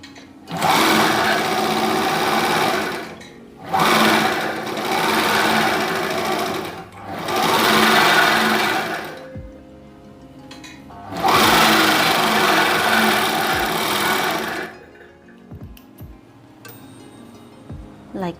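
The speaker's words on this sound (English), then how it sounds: "And sew here using a serger." A serger stitching fabric for a simple turban hat runs in four loud, steady bursts of a few seconds each, separated by short pauses, with soft handling clicks at the end.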